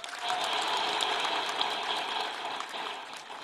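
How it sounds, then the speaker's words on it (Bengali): An audience at a speech by Dr. Yunus breaks into loud, sustained applause, a dense wash of many hands clapping that fades slightly toward the end. "এই ঐতিহাসিক ঘটনা যারা নায়িকা, তাদের জন্য একটা জোরে হাততালি দিই"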